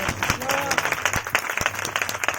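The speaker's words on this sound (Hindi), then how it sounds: "जोरदार ताली बजाएं परमेश्वर के लिए।" A church congregation claps loudly for God, a dense, uneven burst of applause filling the room while a voice carries over the clapping.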